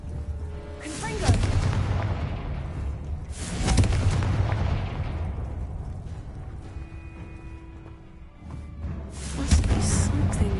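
Confringo fire spell blasts in the Hogwarts Legacy video game, several loud booming explosions with long rumbling decays, spaced a few seconds apart, with a sustained tone in between.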